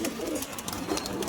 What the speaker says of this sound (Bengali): তো ঘরে প্রচুর পায়রা আছে স্টকে